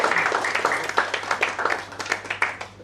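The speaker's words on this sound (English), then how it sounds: "let's clap for him once again for his enthusiasm" An audience at a banking quiz semi-final claps steadily for a contestant, a dense patter of many hands kept at an even level throughout.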